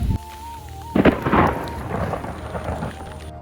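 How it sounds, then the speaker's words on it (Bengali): Loud thunder rumbles and cracks during a rainstorm near a grass-cutting field on a dairy farm, with steady rain beneath a sharp burst of thunder about a second in that rolls on and fades. "বাপরে, কি পরিমাণ বিদ্যুৎ চমকাচ্ছে!"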